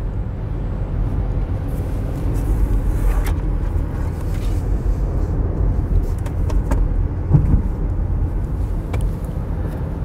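Inside a car driving to work on a road through mountain scenery: steady low road rumble and engine drone throughout, with no talking.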